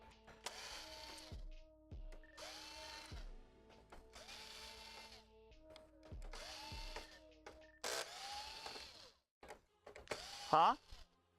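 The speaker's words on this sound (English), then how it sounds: "Let me finish taking off these screws." Small electric screwdriver whirring in short repeated bursts as screws come out of a game console during a repair, each burst rising and stopping, with a few clicks between them and no talk.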